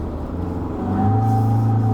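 An Isuzu D-Max X-Terrain pickup engine drones steadily in a cabin after a downshift to second gear on a winding mountain road, its hum rising slightly in pitch and loudness halfway through.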